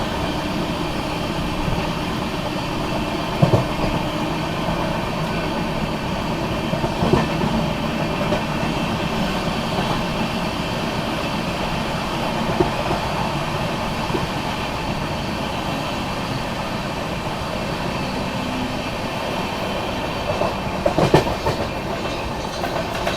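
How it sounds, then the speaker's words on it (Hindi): The Vikramshila Express rolls steadily through Subedarganj station with a continuous rumble of railcars and occasional sharp clacks from the wheels over rail joints, heard from on board without talk. "यहाँ सूबेदारगंज स्किप कर लिया अपनी विक्रमशिला एक्सप्रेस ने"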